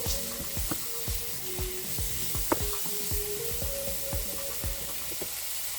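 Salted quinoa in a pan, a steady soft sizzle and hiss with faint stirring scrapes and a brief clink midway, no talking.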